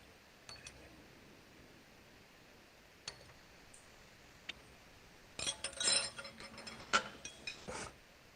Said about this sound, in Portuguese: Transfere para um Erlen de 125 ou 250 também